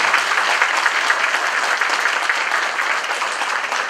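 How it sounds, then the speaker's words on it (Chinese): Loud, steady applause from the audience for Wang Zhihao at a charity clinic board's installation ceremony, continuous close clapping throughout with no talk. "我们给王志豪一个掌声"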